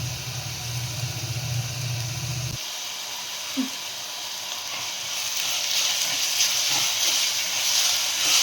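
Onions sauté in a pan for a fresh turmeric gravy, a continuous hiss and sizzle that grows slightly louder toward the end, after a low background hum cuts off early on; no talking.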